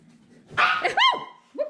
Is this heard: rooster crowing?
no